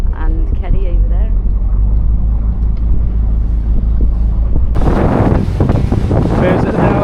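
Boat engines running on the water while heading out in a convoy, a low steady drone with heavy wind buffeting the microphone, turning rougher and louder with splashing noise partway through.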